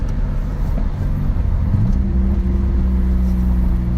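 A 1986 Nissan 300ZX Turbo with a Greddy turbo setup pulls steadily, its engine note rising as it climbs through a smooth gear change, heard loud and close from inside the car with no talking.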